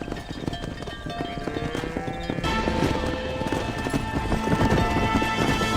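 A horse gallops in Red Dead Redemption, steady rhythmic hoofbeats near and loud, growing stronger partway through over a layered game soundscape.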